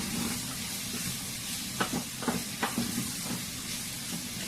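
Food frying in a little olive oil gives a steady, soft sizzle, with a few sharp clicks and scrapes of stirring rising above the hiss partway through.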